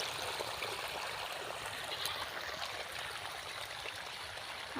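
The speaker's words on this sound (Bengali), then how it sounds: "এই যে এই জমিতে জল দিতেছে মোটর দিয়ে" Water pumped by a motor flows steadily into a farm field, a continuous rushing trickle heard from close by with no talk over it.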